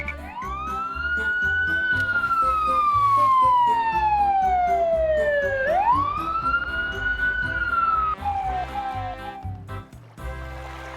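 A fire engine siren wails loudly in long rising and falling sweeps over a rumbling vehicle engine, close and continuous, then breaks off into a few shorter tones near the end.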